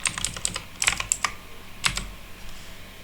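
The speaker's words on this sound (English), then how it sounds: "Click enter on your keyboard again to create a new line." Keys clack on a computer keyboard in short irregular bursts of crisp taps, clustered early and again near the two-second mark, close and fairly clear with no talking.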